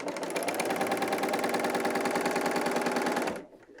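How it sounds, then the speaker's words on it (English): A BERNINA L 890 sewing machine stitching knit fabric runs in one steady, rapid mechanical chatter for a few seconds, close and clear, before stopping abruptly. "what I'm going to do is stitch a length"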